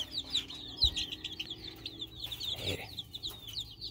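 Chickens cluck and chirp in a series of short, bright calls, some nearer and some farther, with a brief spoken word and scattered knocks in the background.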